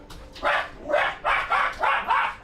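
Dogs bark in a rapid run of about five loud, close barks, evenly spaced with no talk over them.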